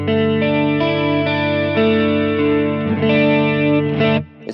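Electric guitar playing sustained chords through a Mooer Pitch Box pedal set to its lowest five-cent detune, giving a subtle shimmering chorus-like thickness; loud and continuous, alone with no talk, ringing to a brief stop near the end.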